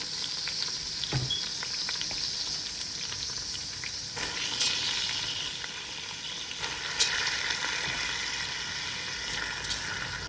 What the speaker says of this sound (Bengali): তো এখন আমি এখানে দিয়ে দিব চালগুলো